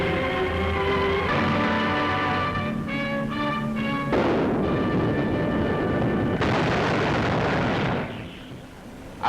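Allied artillery guns fire a heavy barrage in Italy in 1943, a dense rolling rumble of booms and bursts that stays loud for several seconds before easing off, with music underneath.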